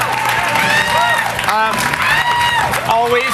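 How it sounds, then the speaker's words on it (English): A live audience at the E3 2008 stage show claps and cheers for a guest, broad steady applause with whoops, while an amplified voice and music-like tones ride loudly over the crowd. "Yes, clap for Cliff."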